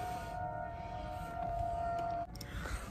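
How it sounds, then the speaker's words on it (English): A distant tornado siren test holds a steady, wavering tone over low background rumble, then cuts off near the end. "the tornado sirens are being tested"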